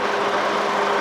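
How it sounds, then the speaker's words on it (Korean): An old DOHC LPG car engine idles evenly at close range, giving a smooth, continuous hum with no voices. "엔진 소리 한번 들려드리겠습니다"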